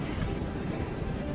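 Steady wind buffets the microphone, a continuous low rumbling roar with constant gusty texture and no voices.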